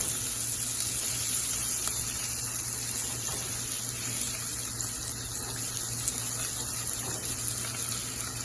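Chopped onions sizzle in hot oil with whole garam masala spices, a steady, fairly faint hiss that holds evenly throughout with no talking.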